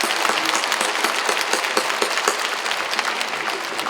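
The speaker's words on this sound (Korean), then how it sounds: "박수로 환영합시다." A church congregation claps together at a national charismatic renewal healing retreat, giving sustained, dense, even applause from a large crowd that fills the space throughout.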